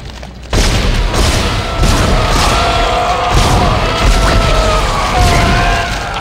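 Weapon fire aimed at tentacles in the Dead Space video game: a dense run of heavy booming blasts and rumbling impacts, loud and close, with a sustained droning tone under the barrage and no speech.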